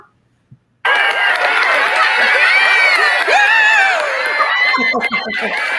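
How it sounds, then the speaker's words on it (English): Audience cheering, whooping and shouting erupts for a guest on a talk show, loud and sustained for several seconds with excited voices layered over the crowd noise, then tapering near the end. "Let's give her a big round of applause."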